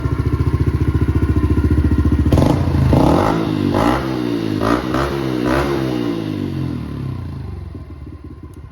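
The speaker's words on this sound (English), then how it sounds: "the fuel injection on these things is amazing. There's no hesitation ever. They run super well." A 2022 Honda CRF110 dirt bike with fuel injection, a bigger throttle body and a tune idles with a rapid, even putter, then revs up in several sharp, loud blips close by, each falling back down.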